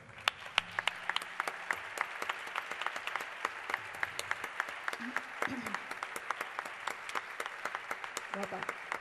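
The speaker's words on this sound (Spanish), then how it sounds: "Un aplauso para Mación Fernández" A crowd applauds at the 35th anniversary of a flamenco cultural club, with sustained clapping and sharp individual claps standing out, while a few voices and a shout rise briefly over it.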